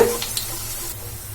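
Cauliflower coated in breadcrumbs fries in hot oil, giving a steady low sizzle with faint stirring scrapes throughout, close and even in level.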